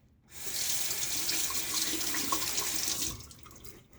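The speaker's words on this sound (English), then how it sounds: "Give this bar a good rinse off, set it on my towel." Rockwell 6S razor base plate rinsed under a running tap, a steady close rush of water for about three seconds that starts and stops abruptly, no talking.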